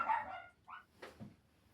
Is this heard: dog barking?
yes